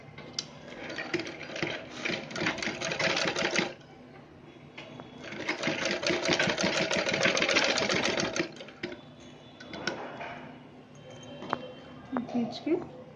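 Fabric for a cosmetic pouch runs through a sewing machine in two long whirring stitching bursts separated by a pause, close and clear, with someone speaking in the gaps.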